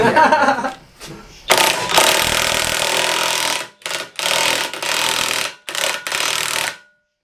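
An impact wrench works on axle parts during a solid front axle teardown on an OBS truck, firing several loud rattling bursts separated by short pauses, with a brief voice near the start.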